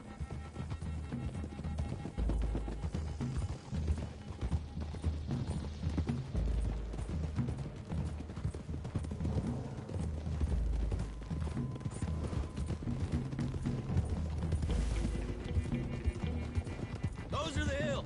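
Horses' hooves clip-clop steadily as a group rides along a hill road in Red Dead Redemption 2, the continuous trotting mixed with in-game ambience and voices.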